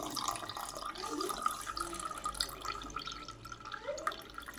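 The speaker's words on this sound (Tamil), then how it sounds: "அப்படியே வந்து எடுத்து தம்ளரில் ஊற்றிக்கலாம்" A home remedy drink poured from a vessel into a tumbler, a continuous close trickle of liquid with small splashes, no talking.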